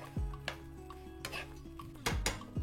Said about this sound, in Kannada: ಈಗ ಎಲ್ಲ ಚಂದಂಗ ಮಿಕ್ಸ್ ಮಾಡ್ಕೊಳ್ಳೋಣ ಅವಲಕ್ಕಿನ. ಮತ್ತೀಗ ಇದ್ರಾಗ ಹುರಿದ ಶೇಂಗಾ ಹಾಕೊಳ್ಳೋಣ ನೋಡ್ರಿ